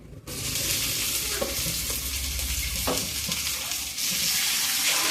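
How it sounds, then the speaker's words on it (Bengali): Chopped tomatoes hit nearly fried onions in a pan for vegetable khichdi, setting off a sudden loud sizzle that hisses on steadily while a spoon scrapes and stirs through the mixture close by. "এবার দিয়ে দেবো আমি কেটে রাখা টমেটো"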